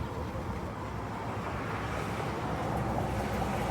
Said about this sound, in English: We put tubes on this, siphon tubes, and it floods this.